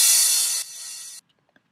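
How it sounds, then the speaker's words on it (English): Crash cymbal in a riddim track, with its low and mid frequencies cut: one bright, hissing splash that drops in level partway through and then stops abruptly, alone. "The next thing we have here is a crash cymbal every 4 bars."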